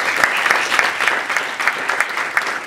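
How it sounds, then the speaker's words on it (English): A debate audience applauds steadily, a dense even wash of many hands clapping close and loud throughout, with no talk over it. "give them a round of applause as well"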